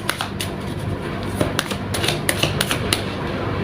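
A deck of tarot cards being shuffled, giving a run of soft papery riffles and sharp snapping clicks at an even pace, close by and with no voices.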